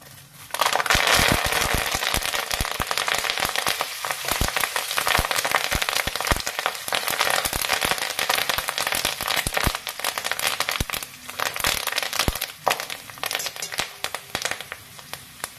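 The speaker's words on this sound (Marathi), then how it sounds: "कढीपत्ता घालताना अगदी सावधतेने घाला, कारण तो तडतडतो" Curry leaves hit hot oil already tempered with mustard and cumin seeds, setting off loud, close, rapid crackling and popping that spatters densely and continues throughout, with no voices.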